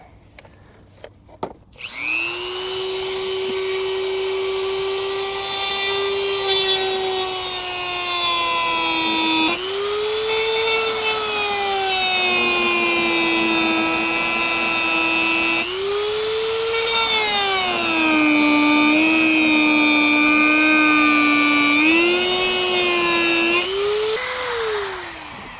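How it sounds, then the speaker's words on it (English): A high-speed rotary grinder bit notches into plastic, starting with a sharp click then a loud sustained whine that dips and recovers in pitch several times as it bites into the material, close and without talking. "Now, you saw me grinding that."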